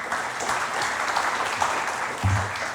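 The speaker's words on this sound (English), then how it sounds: "Please give a big round of applause to all of us." Audience applause at the opening of a Japan–Indonesia conference, a full, even wash of clapping from a large room, sustained and fairly loud, with a low rumble or voice briefly rising near the end.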